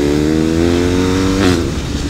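A BMW 1250 GS motorcycle engine revs loud and close, its throaty harmonic drone climbing in pitch and then easing, with no talk over it.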